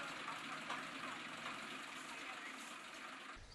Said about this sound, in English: I place the soaked coconut husks on the floor and drive a tractor over it.